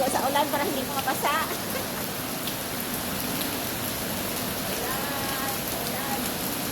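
Heavy rain pours steadily outdoors in a broad, even hiss of drops striking the ground, with kids' voices chattering and calling over it throughout.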